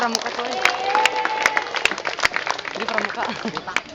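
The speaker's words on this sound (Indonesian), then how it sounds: "Tepuk tangan untuk Pramuka." Applause for the scouts at a school installation ceremony, scattered sharp claps with crowd noise, while a voice talks over it at moderate loudness.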